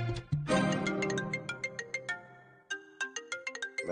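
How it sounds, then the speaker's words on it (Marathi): A phone ringtone for an incoming call: a bright melodic chime that plays as a quick run of clear, evenly spaced electronic notes, close and alone, with a short pause before the phrase repeats. "मॅनेजर कशाला फोन करतो एवढे सकाळ सकाळ?"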